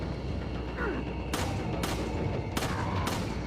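Gunfire in Resident Evil 4, four sharp shots spaced about half a second apart over a steady game background, moderately loud and close.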